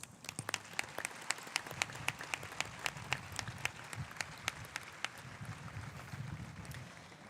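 A high school commencement audience claps, fairly distant and thin, with individual sharp claps standing out over a soft wash of applause that gradually fades.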